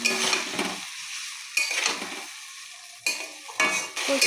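Vegetables with potato and papaya, fried with turmeric paste, salt and sugar, being stirred in a pan: bursts of loud sizzling and scraping that fade between strokes, four clear rounds, close up.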